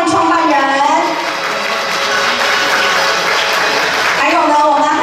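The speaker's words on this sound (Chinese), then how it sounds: "掌声欢迎创办人" Applause from the audience welcoming the founder at a commercial development lease signing ceremony in Kaohsiung, a loud, dense, sustained clapping that swells and fades, with an announcer's voice heard at the start and end.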